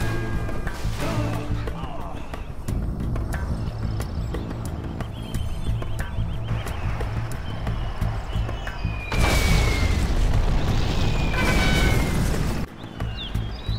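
Bomber dropping bombs in a strategy video game, sustained dense booms and rumbling explosions under game effects, with two louder swelling blasts near the end and no talk.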